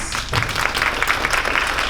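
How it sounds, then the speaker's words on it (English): A conference crowd at a small business session on South Padre Island claps for the panelists, a brief but full burst of close, busy applause that holds steady for about two seconds. "Can we give them a round of applause?"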